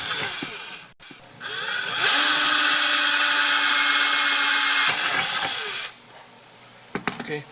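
A power drill bores holes for mounting a Larson storm door, its motor whirring loud and steady for a few seconds, then winding down, followed by light clicks and handling noises.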